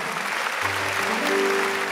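A church congregation applauds during worship, a steady crowd clapping that stays even in volume while low sustained tones, likely music or a keyboard, enter beneath it partway through.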